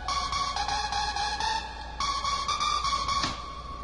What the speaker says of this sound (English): the first sound we are going to use is this the tune lead 5 from Nexus.